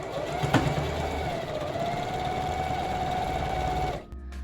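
A sewing machine runs steadily while stitching fabric for a thrifted clothing rework, a close, even whirring hum that stops abruptly near the end.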